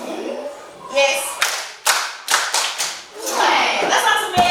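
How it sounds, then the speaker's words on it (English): Schoolchildren clap in a rhythmic pattern, a run of sharp, loud claps with brief pauses between them, mixed with children's voices and chatter. "That's how to make a love clap."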